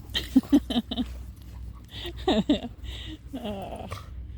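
Small dog yips and whimpers come in short bursts, with scrabbling and a bit of background voice, like a puppy romping close by.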